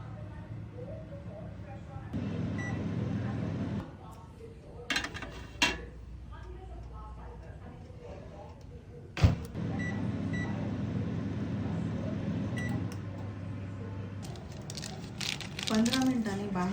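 A microwave oven runs steadily while baking crispy shev snacks at 180°C, a low continuous hum beneath talk, with a few sharp clicks and a beep-like tone near the middle.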